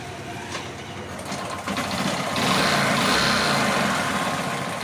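A Hero Glamour motorcycle engine, wired through the rectifier without a wiring kit, starts and runs. It settles into a steady, close mechanical idle that rises slightly in level, with no talking.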